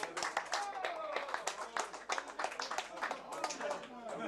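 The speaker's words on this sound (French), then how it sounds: "On les applaudit." Scattered hand clapping from a small outdoor crowd at a lakeside fishing contest, honoring the winning team; the claps are light and uneven, running under steady talking throughout.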